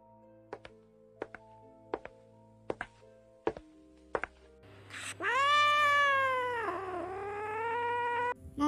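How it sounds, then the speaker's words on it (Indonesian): In the Sakura School Simulator video game, a cat meows at night: a drawn-out, wavering caterwaul that follows a run of evenly spaced hollow taps and ticks, clear and fairly close. "Kenapa tuh si Mowi malam-malam gini ngeong sendiri"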